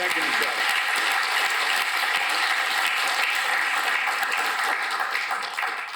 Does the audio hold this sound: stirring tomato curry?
no